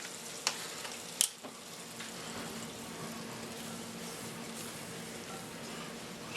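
Melted butter sizzles and fries steadily in a pan over medium heat as flour is stirred in, with a couple of sharp utensil taps near the start.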